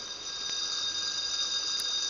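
A steady, high electronic alarm clock tone rings continuously without a break, fairly loud and close, with no voices.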